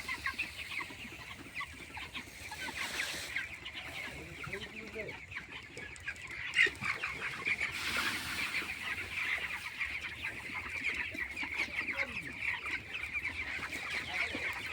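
Chickens clucking as they eat from a feeder, soft overlapping clucks and calls continuing throughout at moderate distance, with faint background noise.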